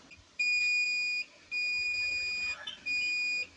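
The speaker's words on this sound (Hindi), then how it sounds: "ये बज़र की आवाज़ भी आएगी जो कंप्रेसर की शॉर्टिंग चेक करने के लिए" An electronic buzzer on a homemade refrigerator compressor starting box, used to check for compressor shorting, sounds three times in steady, high-pitched beeps, each about a second, with short silent gaps and no talking.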